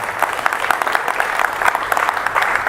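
An audience applauds at a political talk, the clapping started by a woman in the crowd; a lively, continuous patter of many hands with sharp individual claps standing out.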